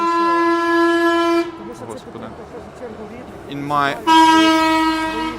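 A train horn blares in long sustained blasts, cuts out for a stretch of street noise and a brief voice, then sounds again loud and close, with speech around it.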